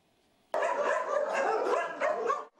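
Many dogs bark at once in an animal shelter, a sudden loud chorus of overlapping barks and yips that runs continuously for about two seconds without any talking.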